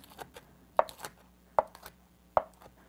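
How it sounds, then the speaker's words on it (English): A knife chops roughly through salted salmon on a board in three sharp, evenly spaced strikes, with fainter taps between them, close and clear with no talking. "give this a rough chop and yes, it will crumble, that's okay"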